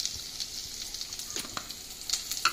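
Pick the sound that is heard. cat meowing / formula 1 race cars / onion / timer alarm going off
onion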